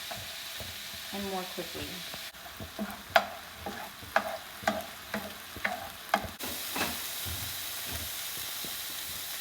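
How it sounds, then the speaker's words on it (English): Ground beef frying in a pan and broken up with a flat spatula: steady sizzle under a run of sharp, evenly spaced scraping taps, close and fairly loud, with a brief voice near the start. "So now I'm going to go ahead and break up the ground beef."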